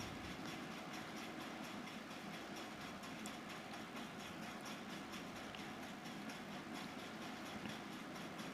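Electric sewing machine stitching the curved princess-cut seam of a blouse, a steady dense mechanical whir with rapid continuous needle clatter throughout, close and even in loudness, no voices.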